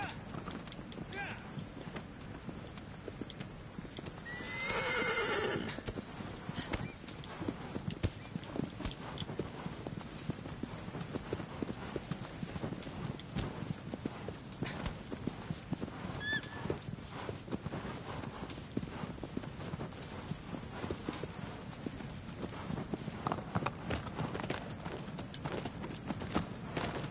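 Steady hoofbeats of a galloping horse in the video game Shadow of the Colossus run throughout against constant wind noise, with a brief whinny-like cry early on.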